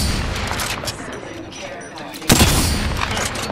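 Enemy gunfire in the battle-royale shooter Apex Legends: a steady stream of shots and impacts, with a loud heavy blast or burst erupting partway through and continuing firing after.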